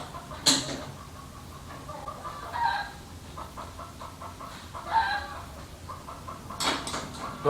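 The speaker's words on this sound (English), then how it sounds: "Don't mind the chickens, guys." Chickens on a ranch cluck in short bursts at moderate distance, with a sharp louder call near the start and another toward the end over a quiet outdoor background.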